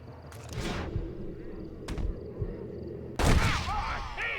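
Sharp gunshots in the Red Dead Redemption western video game ring out in a few separate bursts over a steady rumbling game backdrop, with the last blast loudest and followed by a lingering echo.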